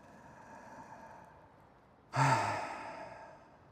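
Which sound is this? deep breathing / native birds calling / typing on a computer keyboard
deep breathing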